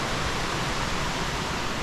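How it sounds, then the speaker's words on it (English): A waterfall right beside a trail at a Costa Rica eco-lodge gives a steady, close, unbroken rushing roar with no voices over it. "Right next to the waterfalls."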